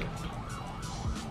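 An emergency siren wails on a busy Manila street, rising and falling over traffic rumble at moderate distance, with no talking over it.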